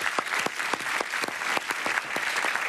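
Studio audience applause on a letters and numbers game show, a brisk, even round of clapping with distinct individual claps, steady and moderately close throughout.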